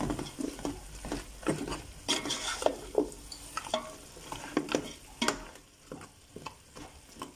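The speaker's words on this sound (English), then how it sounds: "I'm going to add in the garlic and ginger now. Let's give it a stir." Garlic and ginger frying in a pan with meat chops, stirred with a run of close scraping strokes over a steady crackling sizzle.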